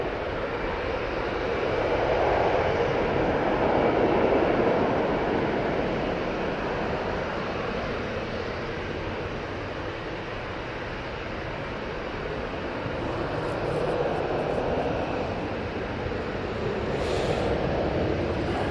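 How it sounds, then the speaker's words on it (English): An Airbus A320-200 airliner departing Manchester Airport gives off a distant, steady jet rumble and broad rushing roar, fairly faint and slowly rising and falling over the whole stretch. "It's off to Tivet, using their A320-200 for this flight."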